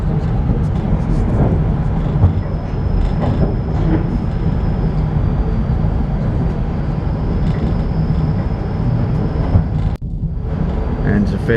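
A train runs along a railway through hilly ranges near Toowoomba, heard as a steady rumbling rattle of carriages from on board, with a faint high whine and a brief clunk near the end, no talk.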